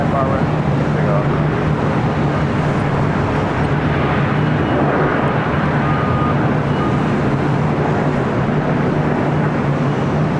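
An airliner takes off from runway 24 right at LAX, a steady, broad, loud roar of jet engines sustained throughout with a low droning hum, heard from nearby with a faint voice underneath.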